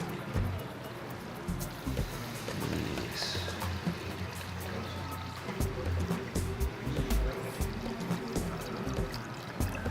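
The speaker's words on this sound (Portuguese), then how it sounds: "Então agora está na hora de colocar o leite." A litre of milk is poured into a pan for white sauce, making a faint, continuous liquid pour with scattered clinks close by.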